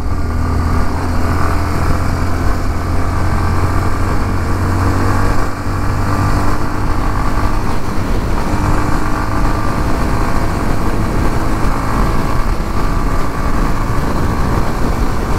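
A 2023 Yamaha Lander 250 motorcycle engine runs steadily at close range, a continuous throbbing drone that holds an even level throughout with no talking.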